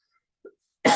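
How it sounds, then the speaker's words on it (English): A person clears their throat: a faint short grunt first, then a loud rough rasping burst close to the mic after a pause. "I have to clear my throat again"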